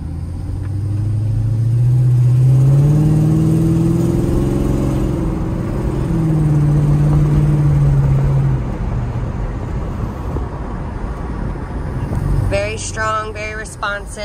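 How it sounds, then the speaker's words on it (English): A 2007 Dodge Magnum cruising down a road, its engine droning steadily and rising in pitch through gear changes, with a distinct upshift partway through and road rumble underneath. "we're just going to take it for a cruise down the road, let it go through the gears once or twice."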